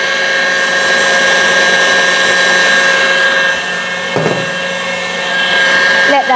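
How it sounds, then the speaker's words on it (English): Electric whisk whipping two egg whites and sugar into shiny pavlova meringue, a steady loud continuous whir with a brief dip in pitch midway before it picks back up. "Let that whisk up for another minute or so whilst we make sure that the sugar gets broken down"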